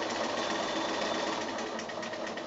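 Sewing machine stitching binding around the edge of a quilt, a steady continuous whir of rapid needle strokes, close and loud throughout with no pauses.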